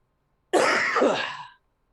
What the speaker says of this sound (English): You've had a lot of hacking and coughing